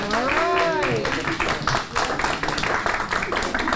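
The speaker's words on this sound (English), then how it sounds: "healthcare workers lined the hospital hallways, cheering as several colleagues received the first dose of Pfizer's COVID-19 vaccine" Healthcare workers line a hospital hallway in Kern County, cheering and clapping as colleagues receive first doses of Pfizer's COVID-19 vaccine; a voice speaks at first, then dense, steady applause and cheers fill the rest.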